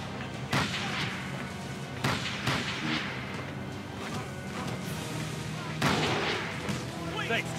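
Heavy, booming gunshots crack out one after another at irregular intervals, loud and close, with game sounds and a voice in between, in the video game Call of Cthulhu: Dark Corners of the Earth.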